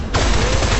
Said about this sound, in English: The bullets are just bouncing off him, don't they?